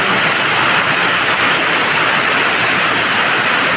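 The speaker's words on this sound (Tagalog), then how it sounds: "Ang lakas na naman po ng ulan." Heavy rain roars steadily with a dense, continuous hiss, loud and close, with no voices.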